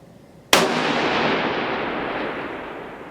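A Wheaton Arms custom precision rifle in 6.5 Creedmoor fires a single loud, sharp shot that rings out into a long, fading outdoor echo, with no talking.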